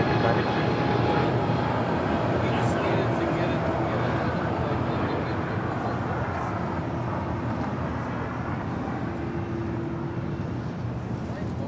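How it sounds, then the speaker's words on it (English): A Southwest Airlines Boeing 737-800 takes off from LAX bound for Dallas Love Field, a steady loud jet engine roar sustained throughout. "Southwest Airlines flight 2690 heading to Dallas Love Field in a 737-800"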